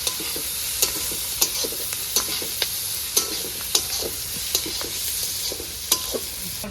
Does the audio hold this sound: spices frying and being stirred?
yes